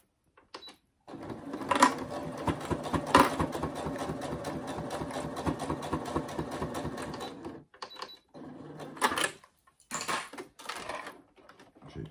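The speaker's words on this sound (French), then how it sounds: "On va faire notre couture, notre surpiqûre de ce côté-là." A sewing machine runs a topstitch seam on fabric for a hip-pack project, its fast rhythmic stitching buzzing steadily for several seconds, then stopping and restarting in short bursts, moderately quiet and close.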